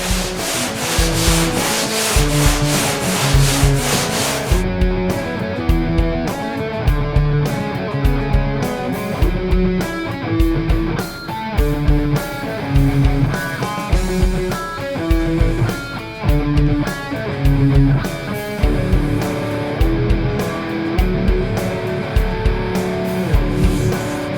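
A hand sanding block rubs back and forth across body filler on a car roof in a steady rhythmic pattern, close and loud, continuing for over twenty seconds.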